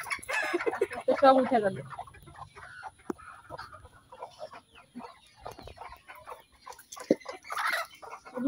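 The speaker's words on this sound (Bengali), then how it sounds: "আর সব মুরগি মোরগ দেখেন ঘরে আসার জন্য" Chickens and roosters cluck and squawk loudly at dusk as they gather to return to their coop, with a burst of calls at the start and scattered clucks afterward, while a person speaks briefly.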